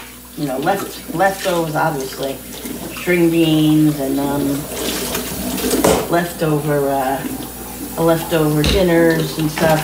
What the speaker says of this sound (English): Sorry about the noise, but doing dishes, gotta get these done.